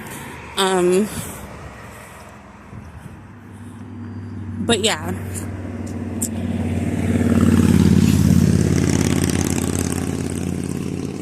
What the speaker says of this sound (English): It's probably like a little bit louder, the car noise, because I'm closer to the main road.